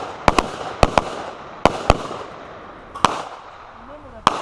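Sharp gunshots from carbine and pistol shooters at a shooting class ring out in close pairs and singles, loud and near, with brief echoing tails over a quiet outdoor background.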